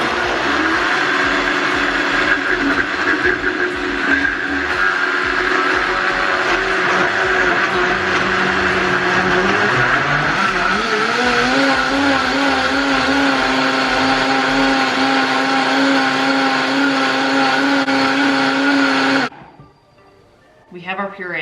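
A Vitamix blender purees peaches with a loud, continuous motor roar whose pitch shifts and rises midway as the fruit breaks down, then cuts off abruptly near the end.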